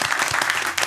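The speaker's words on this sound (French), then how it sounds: "Mesdames et messieurs, applaudissez, maximum d'applaudissements." A short, steady wash of audience applause rises in a studio at the close of an artist interview show, heard alone and fairly close.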